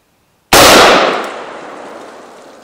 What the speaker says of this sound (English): Let's see what the M4 can do.